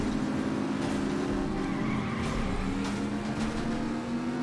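Car skidding through a handbrake turn in The Saboteur, a video game: a steady engine drone with a sliding tire squeal that rises and holds, loud and continuous throughout with no talking.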